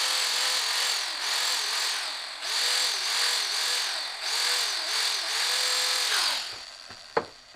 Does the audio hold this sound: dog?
no